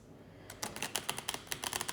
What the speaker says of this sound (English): just shuffle it and let's clear the deck